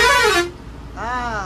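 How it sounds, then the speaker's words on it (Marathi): A bus horn on a highway blares twice in loud, sustained blasts separated by a short pause, heard from close by aboard a Naik bus travelling between Panjim, Devrukh and Mumbai. "हॉर्न लवर आहेत वाटतं."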